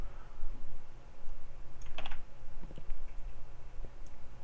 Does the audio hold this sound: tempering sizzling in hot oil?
no